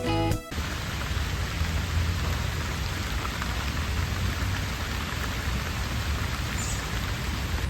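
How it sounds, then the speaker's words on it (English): Heavy rain pours down in a park, heard from shelter under a tree: a dense, loud, unbroken hiss of drops that carries on steadily with no voices. "Yeah, it's absolutely pouring, so I am stuck under this tree that is protecting pretty well"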